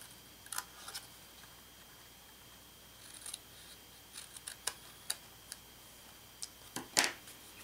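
Scissors trim paper for a spider card in a quiet room, making scattered sharp snips and clicks, a few close together and one louder cut near the end, with no voices.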